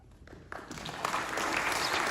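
Clapping starts sparse and quiet, then swells within a second or two into a loud, steady burst of many hands applauding.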